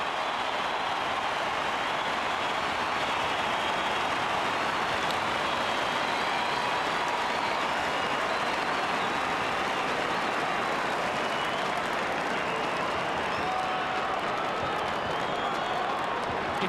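Stadium crowd roaring and cheering after a Port Adelaide goal in the 2004 AFL preliminary final against St Kilda, a dense, sustained wash of noise that holds steadily for the whole stretch.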